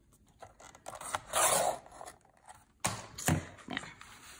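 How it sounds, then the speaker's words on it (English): Scissors cutting a paper scrap for a DIY journal album, a few short close snips and rustles at low volume with quiet pauses between, no voices. "I like to use every scrap, so I'm going to cut that."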